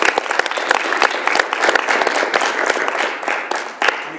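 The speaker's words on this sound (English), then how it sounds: "Let's give our candidates a round of applause." An audience at a university student government presidential debate applauds the candidates, with dense, steady clapping that fills the room without a pause.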